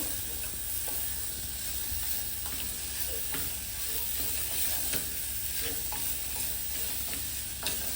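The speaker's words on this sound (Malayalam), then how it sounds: "നമ്മൾ ഗ്രീൻ ആപ്പിൾ മുറിച്ച് വെച്ചേക്കുന്നത് ആഡ് ചെയ്യും എന്നിട്ട് ആ മസാലയിൽ നന്നായിട്ട് മൂപ്പിച്ചിട്ട് എടുക്കും" Cut green apple pieces fry in masala for a quick pickle, with a loud continuous sizzle and steady stirring scrapes throughout, close up and with no voices.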